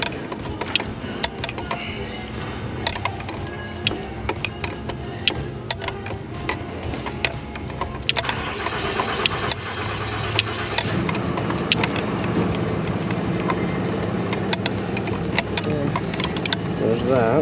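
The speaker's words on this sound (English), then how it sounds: "No, just crank it over." Ford 7.3 Powerstroke diesel engine cranking over without starting after a passenger-side fuel line replacement, a long steady mechanical churn of the starter heard up close, with people talking over it.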